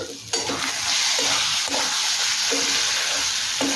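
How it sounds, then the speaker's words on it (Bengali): Fried potatoes are stirred into sizzling ghugni spice masala in a pan, with close, rhythmic scraping strokes over a steady, loud frying hiss. "এখন দেবো আগে থেকে ভেজে রাখা আলু মশলার সাথে মিশিয়ে নেব"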